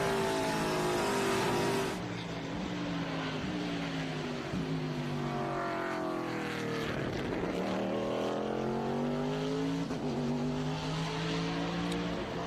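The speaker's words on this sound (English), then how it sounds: "Beautiful sound of that TA car." A powerful Trans-Am race car engine roars past at Road America during qualifying, its pitch climbing and falling through repeated gear shifts, loud and sustained.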